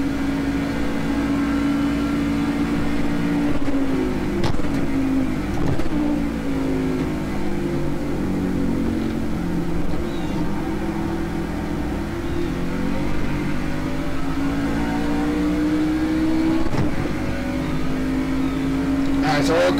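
A NASCAR truck engine in the iRacing sim on the Daytona road course holds a steady, loud drone, its pitch rising and falling as it revs through gears, with a few clicks and no pauses.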